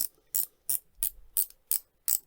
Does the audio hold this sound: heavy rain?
no